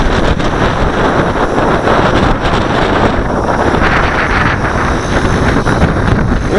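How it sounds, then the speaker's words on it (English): Loud, strong gusting wind of about 15 knots blasts across the microphone outdoors on a windy day, a constant heavy roar with rapid buffeting and no speech. "We got real strong wind here, folks. About 15 knots."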